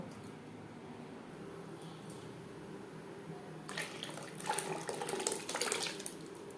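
Turmeric-tinted water is poured into split pea dal in a pot. A soft background hum gives way midway to a nearby splashing, gurgling pour that grows louder toward the end.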